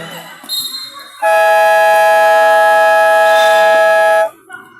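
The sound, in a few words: game buzzer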